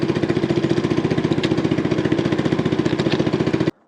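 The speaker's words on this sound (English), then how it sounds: "I can't shut this engine off." A small fan-cooled engine on a cheaply built kid's snowmobile runs steadily at a fast, even chugging idle, loud and close, then cuts off abruptly near the end.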